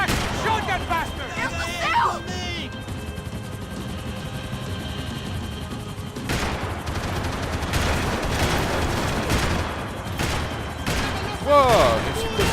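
Video game gunfire from Max Payne 3: scattered sharp shots and bursts amid dense action noise, with in-game voices shouting around them.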